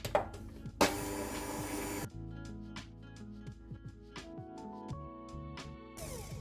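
A brief loud burst from an electric mixer beats pandan paste, self-raising flour and batter together, then gives way to quieter clinks and taps of bowl and utensils, ending with another short mixer whir.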